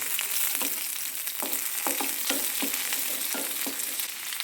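Shallots and slit green chillies sizzle steadily in hot oil for a Kerala-style moru curry, with repeated short scraping stir strokes cutting through the continuous frying hiss, close and alone.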